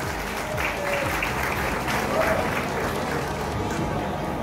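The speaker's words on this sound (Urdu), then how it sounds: "تو آپ سب لوگوں سے ریکویسٹ کروں گا کہ زور سے چودھری صاحب کے لیے ان کے پارٹنرز کے لیے تالیاں ماریں جناب." Audience at an opening ceremony for a Spanish company in Lahore, Pakistan, giving sustained, even applause, a dense wash of many hands clapping at a steady level throughout.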